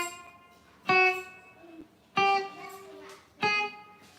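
Three short, sharply attacked guitar notes or chords played staccato, each cut off quickly with no ring-out, spaced about a second apart and clearly audible alone.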